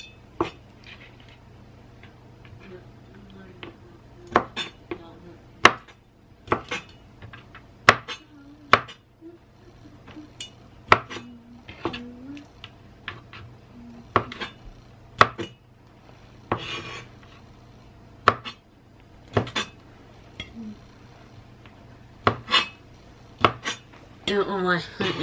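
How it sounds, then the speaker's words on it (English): A knife chops raw shrimp into bite-sized pieces on a cutting board while ramen is being made, giving sharp, irregular knocks spread across the whole stretch. Some utensil clatter sounds alongside, and faint room tone sits underneath. "I'm just going to cut the shrimp into smaller little bite-sized pieces"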